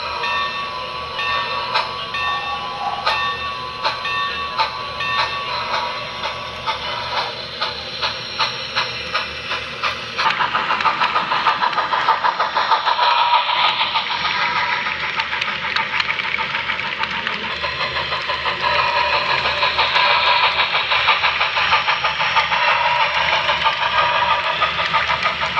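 An HO scale model freight train of the Colorado & Southern Railway runs along the layout, its wheels and motor giving a continuous rattling, clicking rumble that grows a little louder and brighter partway through, with no talk.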